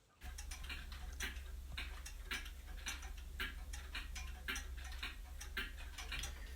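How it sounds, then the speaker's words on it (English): A Hermle 1161 cable-driven grandfather clock ticks steadily and close, with sharp, evenly spaced mechanical beats running the whole length over a low steady hum and no talking. "this is a Hermle 1161 cable grandfather clock"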